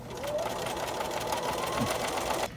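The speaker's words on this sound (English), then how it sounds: "the needle will stitch at a consistent distance from the edge" A sewing machine stitches fabric for an ironing board cover in one steady, continuous run, close and fairly loud, stopping abruptly just before the end.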